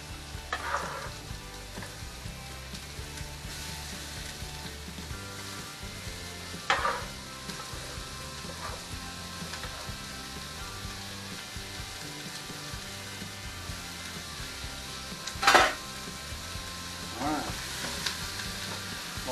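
Chopped onion sizzles steadily in a hot pot for a long stretch. A scraper scrapes and clatters against the pot a few times while it is stirred, and no one speaks.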